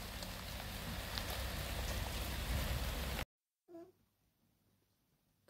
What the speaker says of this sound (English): Also, look at the rain.